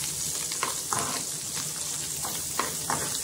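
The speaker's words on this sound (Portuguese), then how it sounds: "E aqui tá a charque, gente, já assando, né?" Dried beef charque fries in a pan with a little butter, giving a soft, steady sizzle broken by occasional light scrapes of stirring, fairly quiet and close.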